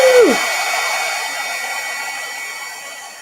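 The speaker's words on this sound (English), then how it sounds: "And I'm going to emboss this." Heat embossing tool blowing hot air to melt embossing powder on a stamped card, a loud steady whirring blast close by that starts with a brief falling whine and continues, with no talking.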